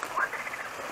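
Frogs croaking at a pond near the Duruçay reservoir in Vezirköprü, Samsun, a soft chorus of calls carrying steadily through the short stretch without voices.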